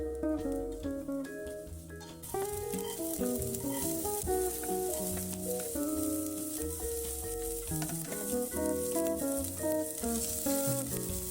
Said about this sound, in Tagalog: Lagyan natin ng ginger. Then, after ng ginger is bawang or garlic.